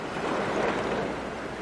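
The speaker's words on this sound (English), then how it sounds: "Water lapped at these apartments in Navarre." Hurricane Opal's storm water laps at apartments in Navarre, heard as a brief, steady wash of rushing water and wind noise.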